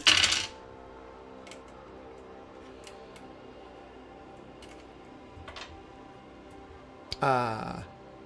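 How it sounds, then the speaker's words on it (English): Many dice are tossed onto a table during a tabletop role-playing game session, opening with a sharp clatter, then a few scattered ticks, and closing with a second rattling tumble of dice near the end. "There's so many dice."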